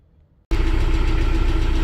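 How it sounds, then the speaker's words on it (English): After a brief near-silence, a tractor's loud, steady engine idle starts abruptly and keeps a constant low rumble with a mechanical drone throughout, heard from inside the cab. "so in the tractor, so it's a little loud"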